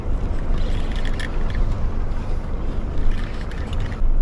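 Boat engine running steadily on open water during a two-person fishing trip hauling in a large fish, a continuous low rumble with wind noise, no talk.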